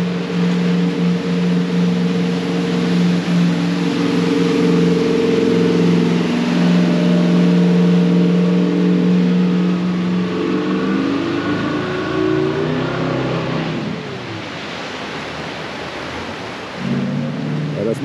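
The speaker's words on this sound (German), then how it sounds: "Natürlich kann man hier auch wieder Jetboot fahren." A jet boat engine on a river in southern New Zealand roars loudly and steadily, then its pitch climbs and shifts as it revs before dropping off and surging again near the end.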